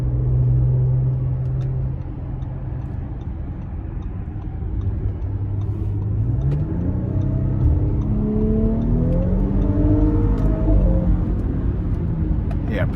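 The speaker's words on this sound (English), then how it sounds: "So we're gonna try and give it a little throttle here," 2023 Audi SQ5 accelerating onto an interstate, engine and exhaust rising steadily in pitch through gear changes, a close cabin rumble under occasional talk.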